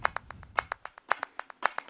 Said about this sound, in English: And then I have this clap here.